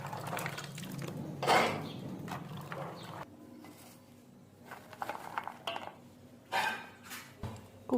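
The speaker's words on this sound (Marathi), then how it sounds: "कुकर स्वच्छ घासलेलाच आहे, तरी पण एकदा धुवून घ्यायचं आपण." A metal pressure cooker being washed in a kitchen before cooking, with intermittent clanks and scrapes of metal against metal and splashes of water, moderately close.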